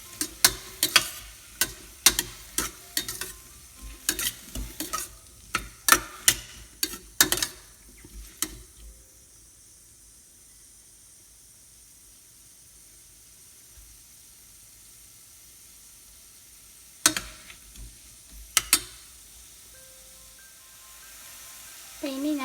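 A spoon stirs dal with turmeric and chili powder in a pan, Andhra-style pappu: brisk scraping and clinking strokes close by for several seconds, then a long quiet stretch broken by a few more isolated clinks.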